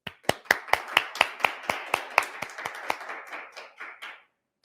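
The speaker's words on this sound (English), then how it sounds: "there is a small group of people here, all in masks, who are actually clapping" A small group of masked people at an alumni awards ceremony claps, about twenty sharp, distinct claps in a quick uneven rhythm that thin out and fade over four seconds, close and clear with no talking.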